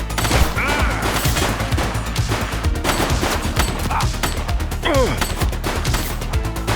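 Heavy gunfire in a TV police drama, dense bursts of automatic fire and rapid shots packed over loud music or a score, continuous and close throughout with no clear pause.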